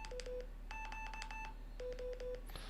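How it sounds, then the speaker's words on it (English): A series of electronic Morse code beeping tones from a phone app in short bursts, alternating between a higher and lower pitch, with brief gaps between groups, clear and close. "So the dit is a high character and the da is a low character."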